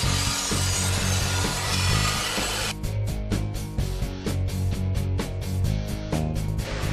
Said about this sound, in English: Using a 1/2 inch round over bit on the router table to put a round over on the edges of the heart